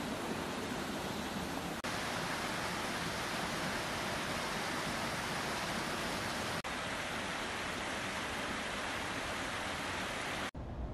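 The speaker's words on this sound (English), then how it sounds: "there's another tiny like little waterfall right there" Continuous rushing water from a small waterfall on a park trail in Portland, Oregon, a steady broadband roar nearby, unchanging throughout with a few abrupt cuts.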